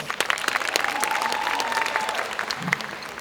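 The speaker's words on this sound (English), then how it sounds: "Give her a round of applause." An audience at a mental health and faith conference applauds a panelist being introduced, a moderately loud, sustained patter of clapping hands heard from a short distance, with a faint tonal sound drifting through the middle.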